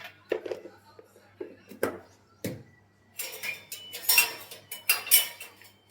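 A spoon mixing salted dosa batter in a bowl, heard as a run of sharp metallic clinks and scrapes against the bowl, irregular at first and then quicker and denser, close and fairly quiet.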